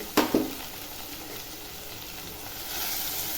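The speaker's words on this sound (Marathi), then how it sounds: "आणि छान याला परतून घेते" Onion and tomatoes with turmeric and salt sauté in a pan for moong dal khichdi: a steady, close sizzle, with two sharp clatters of stirring near the start and the hiss growing slightly stronger toward the end.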